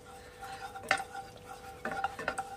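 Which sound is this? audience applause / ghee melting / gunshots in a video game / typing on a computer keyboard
ghee melting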